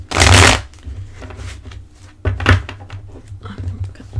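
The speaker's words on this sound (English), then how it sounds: "let me pause this shuffle of cards" Oracle cards shuffled up close in a few loud, rough bursts, thick swishing slides and thumps of the deck, with a dull low knock under them.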